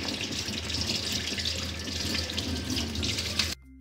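Running tap water pours steadily into a sink as an object is rinsed clean under the flow, a continuous close splashing rush that cuts off abruptly near the end.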